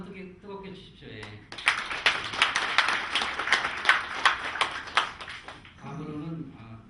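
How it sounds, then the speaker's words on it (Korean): An audience at an academic seminar bursts into a few seconds of lively clapping right after a speaker's prompt, with talking heard before and after the applause. "박수 한번 뜨겁게 주십시오."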